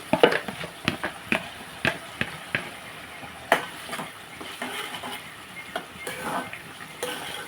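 Chili paste frying for a taro root tamarind curry, with irregular clinks and scrapes of a spoon against the pan over a soft, faint sizzle, close and moderately quiet.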